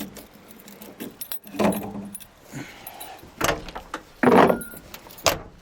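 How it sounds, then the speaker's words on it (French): A bunch of keys, including a fuel tank key, jingles and clinks in several separate bursts, close and clear, with quiet handling noises between them. "J'ai bien la clé du réservoir."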